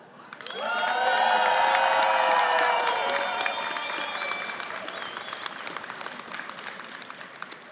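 Loud applause and cheering from college faculty and staff at a convocation rise sharply after a brief pause, peak early, then continue as steady clapping with scattered shouts.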